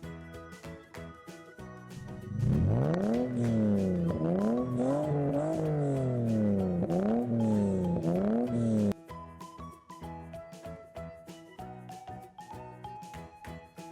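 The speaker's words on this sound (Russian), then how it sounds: "Машина." A car engine revs through several rising and falling sweeps, loud and close, then settles into a lower steady drone, with melodic background music running underneath throughout.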